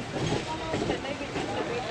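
Steady rumbling and rattling of a passenger train running on the rails on the Guntakal to Nizamuddin Delhi journey, heard close from inside the carriage as one continuous wash of noise.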